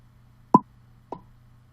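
Two short, round blop sound effects, the first louder and the second softer about half a second later, each a quick isolated pop against near silence and a faint low hum.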